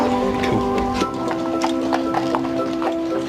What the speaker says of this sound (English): The rest of the regiment mount up. 130 men and their horses are inspected by the commanding officer at Knightsbridge, Lieutenant Colonel Valentine Woyker.